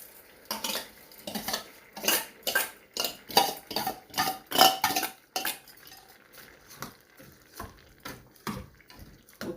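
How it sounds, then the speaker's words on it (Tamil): A ladle stirs rice and lentils into a pot of boiling sambhar, with repeated scraping and clinking of metal against the pot in a steady rhythm, loud at first and then softer, with no talk. "இப்போது நம்ம அரிசி பருப்பு ரெண்டுத்தையும் போட்டுடலாம்."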